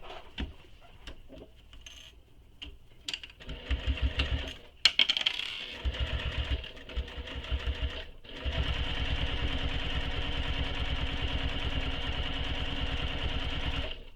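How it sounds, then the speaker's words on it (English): A sewing machine top stitches a tote bag, starting with scattered clicks and short bursts, then settling into a long, steady, even whir of continuous stitching. "I'm going to go ahead and top stitch just as we did with the front panel"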